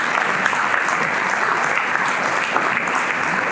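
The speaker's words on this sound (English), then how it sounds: "So big round of applause for his." An audience at a panel discussion on next-generation therapeutics and clinical research breaks into steady, dense clapping, loud and sustained from many hands throughout.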